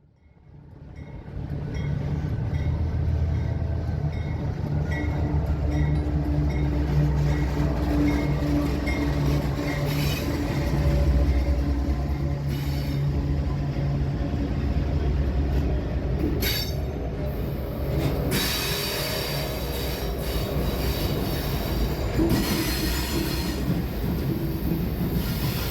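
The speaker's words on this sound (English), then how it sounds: "A local train pulls a set of 3 cars past the station." A CSX local train pulling three cars rumbles steadily past a station on Sand Patch Grade at close range, wheels clacking and squealing against the rails, with a constant low roar throughout.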